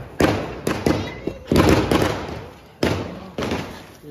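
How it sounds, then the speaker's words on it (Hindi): Firecrackers pop and thud during a Diwali-like celebration welcoming Shri Ram, in a quick irregular series of loud bangs with crackling noise between them. "अभी बजाएंगे सारे पटाखे।"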